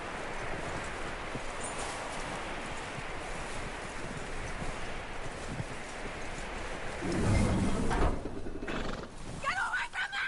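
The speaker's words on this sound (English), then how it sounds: "That looks like a decent horse." In Red Dead Redemption 2, a horse's hooves thud steadily amid wind and rustling before it gives a loud, close whinny near the end, followed by a few more stamps.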